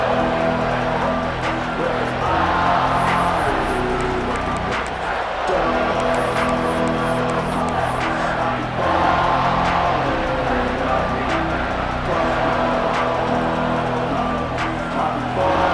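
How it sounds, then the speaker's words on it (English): Stadium crowd at an Ohio State vs Oklahoma football game near the goal line, a dense, steady roar that swells throughout, with an announcer talking over it. "The crowd really making some noise now, trying to help out this defense to get this stop near the goal line."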